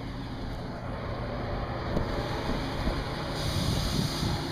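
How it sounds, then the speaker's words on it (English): A large squirrel-cage exhaust fan for a plasma cutting table, rated around 2,000 CFM, roars continuously with a broad, steady whoosh of moving air, rising slightly toward the end. "the exhaust fan for the plasma cam. Now that's a squirrel cage"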